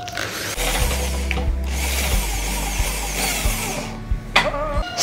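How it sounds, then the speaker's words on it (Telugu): A power drill whirs steadily for several seconds with brief stops and restarts, close and loud, drilling through both sides of a DIY model light bulb, with a short clatter near the end. "2 సైడ్స్ డ్రిల్ చేయాలి"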